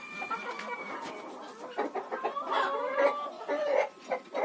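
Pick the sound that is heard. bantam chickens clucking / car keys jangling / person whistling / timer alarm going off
bantam chickens clucking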